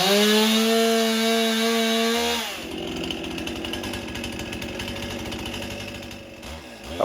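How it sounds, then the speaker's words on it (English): A chainsaw cuts into large oak trees atop a steep rocky cliff: the high revving whine drops as the chain bites into the wood, then churns on in a rough, steady cutting drone before briefly rising again. "I wouldn't normally operate a chainsaw while sitting"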